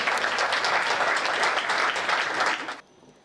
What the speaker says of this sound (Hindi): नेहा शर्मा नमन के लिए जोरदार तालियां बजाएं